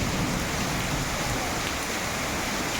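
Constant dense rushing of heavy rain during a thunderstorm with hail and strong wind, water streaming and pattering steadily off a roof without pause.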